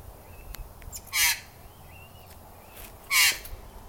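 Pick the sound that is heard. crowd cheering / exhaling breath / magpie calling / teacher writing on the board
magpie calling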